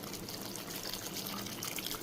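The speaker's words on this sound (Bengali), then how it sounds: "পরিমাণ মতো পানি দিয়ে দিচ্ছি।" Water is poured into a pot of curry with potato, boiled green banana and egg, making a soft, faint, steady trickling pour.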